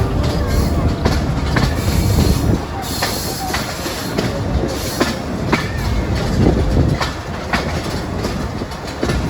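Pakistani 267UP Rawalpindi passenger train running on Main Line 1 between Taxila and Havelian, a steady loud rumble of wheels on rails with rhythmic clickety-clack joints and occasional wheel squeal throughout.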